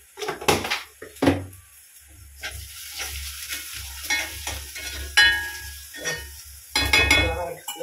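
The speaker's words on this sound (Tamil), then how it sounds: "வெங்காயம் நல்லா வதங்கணும்" Onions sautéing in oil in a pan, heard as a steady soft sizzle under repeated scraping stirs and clinks of a spoon against the pan, up close.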